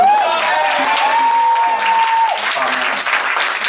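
A crowd at a live band show in a small music venue claps loudly and continuously. A sustained voice, singing or speaking, runs over the applause.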